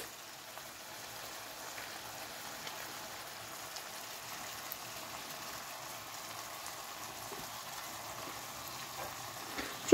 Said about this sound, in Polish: trzymamy na ogniu, aż nam się cały sos podgrzeje